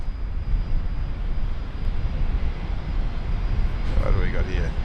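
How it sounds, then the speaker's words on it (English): A Qantas jet airliner rolls for takeoff on runway 19 right at Brisbane Airport, a steady, broad, low engine roar at moderate distance, with a voice briefly speaking near the end. "Qantas 933, runway 19 right, clear for takeoff."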